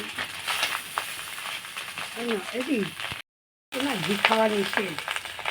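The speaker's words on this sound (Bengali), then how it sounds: "এইভাবে কিন্তু একভাবে নাড়তে থাকবো, নিচে যাতে না পুড়ে যায়।" Paneer pulao sizzling and frying in a pan while being stirred steadily, a close, continuous crackle and hiss with a brief gap, and a voice talking over it.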